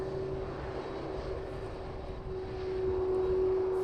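An airplane passes by at East Midlands Airport in the evening, its steady engine roar filling the scene, loud and continuous and swelling slightly toward the end.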